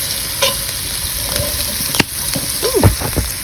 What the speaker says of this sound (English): I'm trying to shift my Dutch oven.